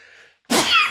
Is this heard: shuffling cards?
no